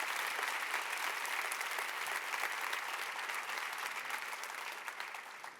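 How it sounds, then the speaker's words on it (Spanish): A church congregation applauds for Jesus, a steady, dense wash of many hands clapping at moderate distance that holds evenly for several seconds before easing slightly. "era un buen momento para darle un aplauso a Jesús"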